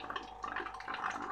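Water flowing inside an air-purifier fountain device where air is pumped up through a tube, a steady close bubbling and gurgling trickle with small drip-like splashes.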